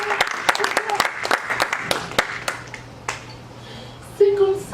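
A church congregation claps in praise: a flurry of scattered, sharp hand claps that thins out over a few seconds, with a voice present toward the end.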